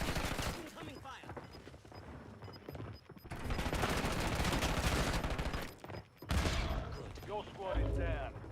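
Video game gunfire, with dense sustained bursts of shots that rise and fall over several seconds, heard close and loud with a voice speaking at points among the shooting.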